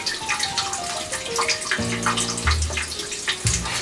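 Water pours from a hose in a steady, continuous stream, close and fairly loud, with brief gurgling shifts in pitch as the flow changes.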